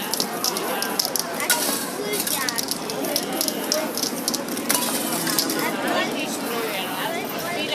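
Spray paint can hissing in short and longer bursts as an artist paints a scene of Rome on poster board, bright airy spraying close up, alongside faint clinks and background chatter.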